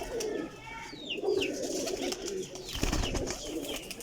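Kajal pigeons of the Pipla breed coo steadily throughout, low repeated throaty calls close by, with a few higher bird chirps and a brief burst of handling noise near the end.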